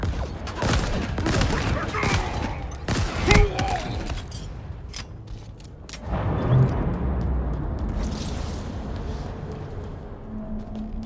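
Mangler sidearm gunfire in Halo Infinite, sharp heavy shots over dense game combat noise with explosions and an alien creature's voice, loud and close, with a rumbling blast partway through.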